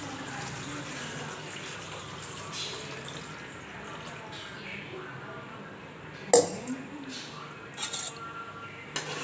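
Water is poured and stirred into a pan of chicken curry seasoned with turmeric, a steady wet swishing with a sharp clink of a utensil partway through and faint voices in the background.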